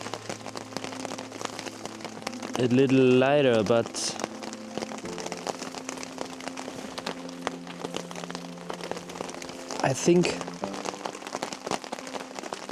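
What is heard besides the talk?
heavy rain falling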